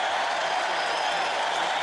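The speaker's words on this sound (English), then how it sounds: "The crowd's very excited." Football stadium crowd at a Broncos–Redskins preseason game, a continuous broad roar of many voices, steady and fairly loud with no distinct claps or calls standing out.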